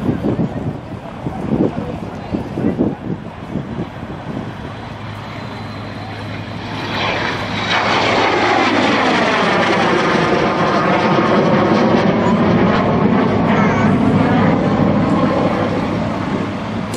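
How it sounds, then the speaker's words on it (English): A de Havilland Venom jet aircraft at an air show: a loud, sustained roar swells in after a few seconds of wind-buffeted outdoor noise and holds steady as the jet passes close by. "departed Woodburn in the Havilland Venom jet, and as you see, he's now arrived with us"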